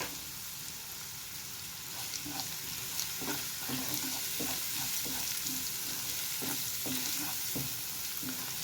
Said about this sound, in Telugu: సిమ్లో వేయించుకుంటే మనకు మాడకుండా ఉంటుంది